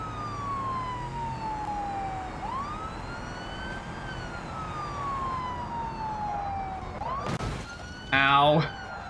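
Police car siren in a video game, wailing in long rising and falling sweeps throughout, with a brief burst of louder electronic yelping near the end.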